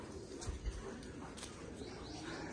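Pigeons coo softly in a loft, low murmuring calls blending into a steady background hum with a few faint chirps, and a voice faintly audible now and then.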